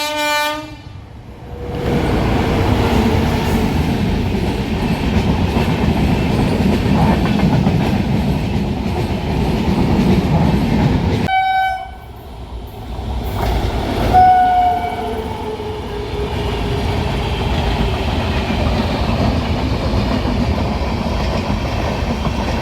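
A train rumbles loudly past on the railway track with a steady clattering roar, blowing its horn at the start and again in the middle before the rumble continues.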